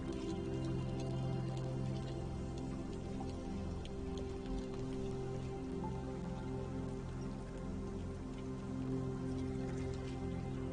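Steady rain shower in the survival game Icarus, a dense, continuous patter of raindrops on surfaces that holds evenly throughout with no talking.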